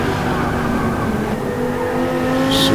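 Race cars in a pro-am race on a track, a continuous close engine drone with a brief higher whine near the end, no voices heard.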